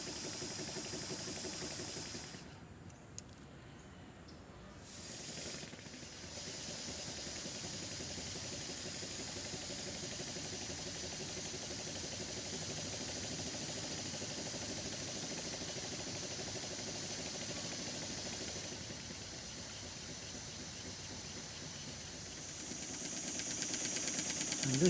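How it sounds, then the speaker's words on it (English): A model double-acting slide valve steam engine runs in reverse with a continuous faint hiss of steam and a soft, steady mechanical chuffing, brief dropouts early on and a slight rise at the end. "this is the engine running in the opposite direction"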